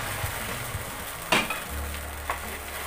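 A broken wheat mix is poured into a pan of sizzling shallots, giving a brief splash and crackle over a steady, close frying hiss, with a few soft stirring clinks.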